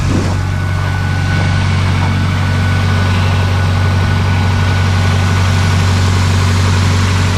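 An old car starts and settles into a steady, loud idle on a cold winter day in Edmonton, Alberta, with a block heater in use, a continuous low engine drone running without talk.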